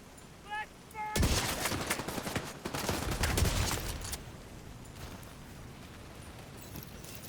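MG9 machine gun fire in a shooter game: a short beeping cue is followed by a loud, dense stream of automatic fire that lasts about three seconds, then quieter game ambience.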